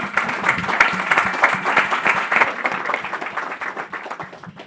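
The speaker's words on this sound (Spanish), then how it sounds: "Un aplauso, por favor, para su compañero." Audience at an academic residents' session applauds a presenter, brisk hand clapping from a moderate group in a room, steady at first and then thinning out toward the end, with no talk over it.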